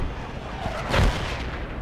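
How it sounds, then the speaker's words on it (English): Mortar fire in the video game Project Reality during a Karez Offensive match: a single heavy, low boom lands midway through a steady rumbling battlefield background. "Putting mortars on the mark."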